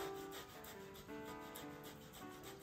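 Frozen, peeled ginger, slightly wet, is grated by hand in a kitchen, giving a steady run of close, rhythmic rasping strokes with one sharper scrape at the end and no talking.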